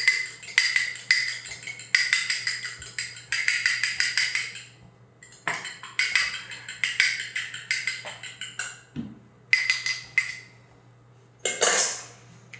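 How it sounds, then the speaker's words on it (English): A fork rapidly beats a cracked egg in a small bowl, bursts of quick rhythmic clinking against the bowl separated by short pauses, close and clear with no talk. "I'm going to crack the egg. And use a fork to mix it."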